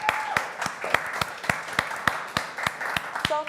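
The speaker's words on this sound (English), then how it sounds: "You deserve an applause." A crowd applauds at the finale show of a remix contest, brisk clapping from many hands with sharp individual claps standing out, steady and fairly close throughout.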